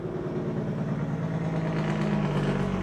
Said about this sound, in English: you gotta love traffic outside